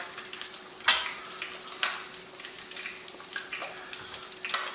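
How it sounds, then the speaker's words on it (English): Baby back ribs deep frying in hot oil make a steady, quiet, crackling sizzle with occasional sharper pops and splatters, heard alone. "These ribs have been frying for about 4 minutes"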